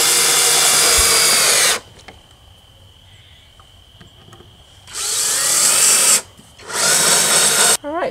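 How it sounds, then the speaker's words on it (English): A power drill runs in three loud, steady bursts of a couple of seconds each, separated by a quieter gap, as it drives screws into wood while building a Christmas decoration. "And then I'm going to put some screws in to hold the black part,"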